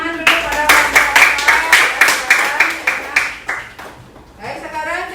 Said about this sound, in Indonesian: kasih tepuk tangan dulu pada Bapak